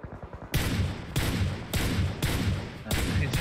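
Bursts of rapid gunfire in the PUBG Mobile game, four or five loud, sustained volleys separated by short gaps, with some voice chatter before the first burst.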